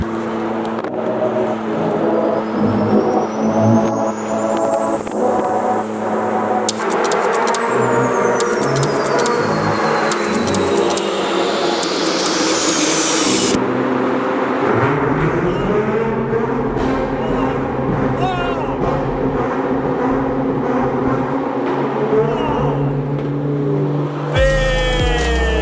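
A Nissan Skyline GT-R on new Vertex wheels drives off and revs hard, its engine rising and falling through loud, sustained sweeps close by, with a sharp burst near the end.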